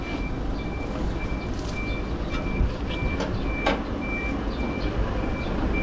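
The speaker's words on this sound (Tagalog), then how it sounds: "Dumating na sasakyan." A vehicle reverses outdoors with a steady series of high electronic beeps repeating at even intervals over a low, continuous rumble of engine and ambient noise.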